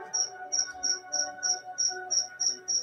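A cricket chirps indoors in a steady series of about nine evenly spaced, shrill pulses, close and clear over a faint room hum, with no talking.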